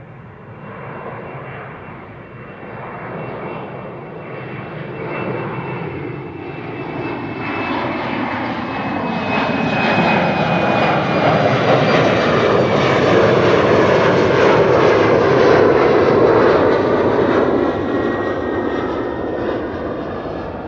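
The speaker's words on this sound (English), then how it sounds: "This is KLM flight 1755 to Hamburg, Embraer 190." A KLM Embraer 190 jet departs Amsterdam Schiphol, its engine roar swelling from a moderate rumble to a loud, sustained blast with a falling high whine as it climbs past, then easing slightly near the end.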